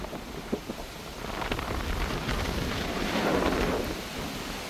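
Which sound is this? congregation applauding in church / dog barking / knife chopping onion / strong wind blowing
strong wind blowing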